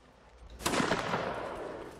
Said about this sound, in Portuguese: Vou continuar disparando.